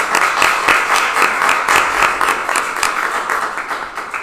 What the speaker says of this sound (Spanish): Vamos a darle un fuerte aplauso a nuestra primer participante.